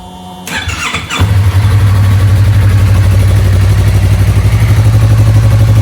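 A 2015-2021 Yamaha R3 motorcycle engine with stock exhaust cranks and fires up, then settles into a loud, steady, even idle nearby with a fairly subdued exhaust note.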